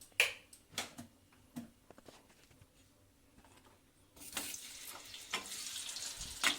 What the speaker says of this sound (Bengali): বেগুনগুলোকে একটু ভালোভাবে আগে ভেজে নিই